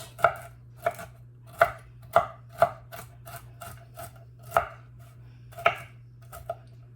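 A knife chops already pre-chopped walnuts into smaller pieces on a cutting board, sharp irregular knocks roughly every half second, close and clear over a low steady hum.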